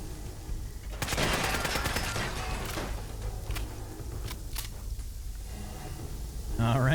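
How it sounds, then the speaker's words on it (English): Automated turrets in Fallout 4's Nuka World Galactic Zone open up in dense, rapid bursts of gunfire, loud and sustained for several seconds before thinning into scattered shots and impacts. "So many turrets, man. So many turrets. Such unbelievable overkill in the turret department."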